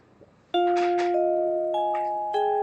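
Bells and glockenspiel in a music composition strike clear sustained tones: a pair of notes near the start, then further chimes later. Each note rings on with a long decay.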